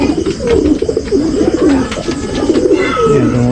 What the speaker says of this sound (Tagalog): kumain din mga kalapatids nung nilipat ko dito